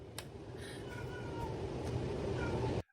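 A cat meows several times in short, fairly close calls over a low background hum, the sound cutting off abruptly near the end.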